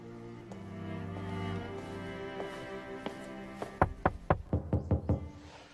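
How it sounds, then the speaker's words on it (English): Knocking on a door in a Western drama, a series of about six sharp, loud raps in quick succession near the end, following a stretch of sustained music underneath. "Knock on the door."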